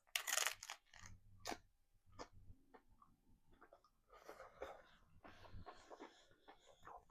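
Close, quiet crunchy chewing while tasting guacamole, with irregular bites and mouth noises over several seconds and soft breathing between them.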